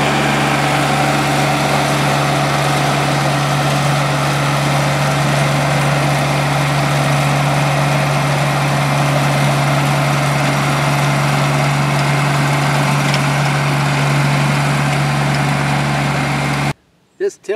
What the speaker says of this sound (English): This tiller that we rented, I'm taking it back.